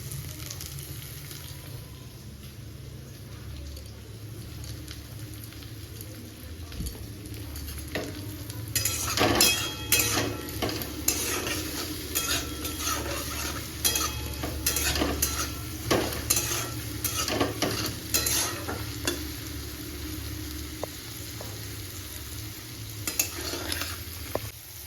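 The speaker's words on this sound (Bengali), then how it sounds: "কাল্লা ভাজি করে দেবো।" Sliced bitter gourd (karela) frying in hot oil, a steady sizzle with a spatula repeatedly stirring and scraping the pan, the clatter growing busier midway and continuing to the end.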